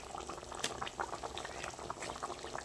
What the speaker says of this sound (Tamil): இப்போ கொதிக்கட்டும்